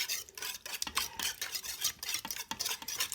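Eggs with salt and pepper are whisked briskly in a bowl, a rapid rhythmic scraping and tapping of the whisk, close and steady with no talking, for a breakfast casserole.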